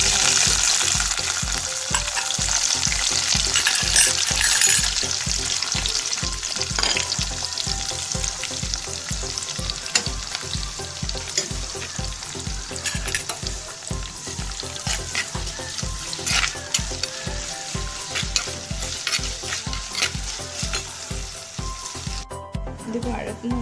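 Onion, garlic and ginger frying in hot oil with mustard seeds for a toddy-shop-style fish curry make a dense, continuous sizzle, overlaid with rapid, regular stirring scrapes that keep a steady rhythm until the end.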